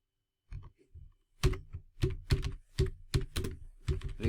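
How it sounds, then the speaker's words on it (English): Keys on a computer keyboard are tapped in short bursts of quick clicks, close and fairly quiet, with brief pauses between groups of keystrokes. "So just type first session on"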